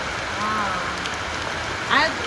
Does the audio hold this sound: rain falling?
yes